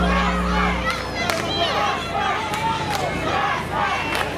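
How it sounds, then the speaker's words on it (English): A wrestling crowd in the Bronx, outside the Kips Bay Boys and Girls Club, chants and yells for the Prospectz at a Greatest Wrestling Alliance show, a dense, steady roar of many voices with rhythmic shouted bursts. "Crowd chanting for the Prospectz."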